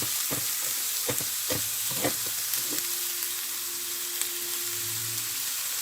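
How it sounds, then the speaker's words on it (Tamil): Grated carrot going into a pan of frying onions, with steady sizzling and several sharp stirring scrapes near the start, then a quieter sizzle with a faint hum, no voices. "இப்போ நான் அதுக்குள்ளே துருவி வச்சிருக்கிற, நாங்கள் ஸ்க்ரேப் பண்ணி வச்சிருக்கிற கேரட்டை போட போகிறேன்."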